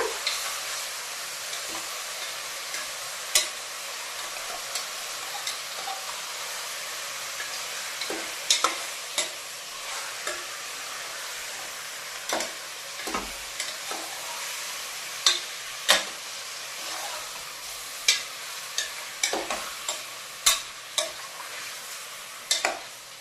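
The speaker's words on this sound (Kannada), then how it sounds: "ಇದು ಈಗ ಫ್ರೈ ಆಗ್ತಾ ಇದೆ." Ingredients for a village-style chicken curry frying in oil, a continuous sizzle with scattered spoon clicks and scrapes against the pan as they are stirred.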